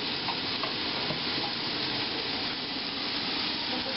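Eggs being beaten for scrambled eggs make a steady, dense swishing scrape that holds at an even level throughout, close and with no talking.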